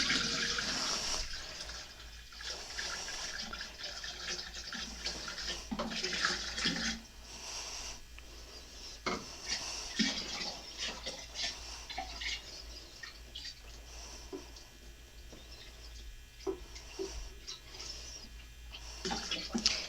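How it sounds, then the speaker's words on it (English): Sugar water poured from one vessel into a large container and a smaller one, a running liquid splash and trickle in bursts with pauses, fairly close and moderately loud, with faint room noise between pours. "We're going to pour 2/3 of it into the big one and 1/3 into the other."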